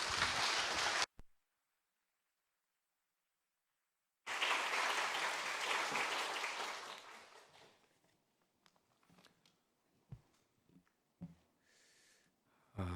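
Crowd applause at a retirement and inauguration ceremony for a Busan ENM representative: a brief burst cut off abruptly, a few seconds of silence, then a fuller round of clapping that swells and fades into scattered handling noises.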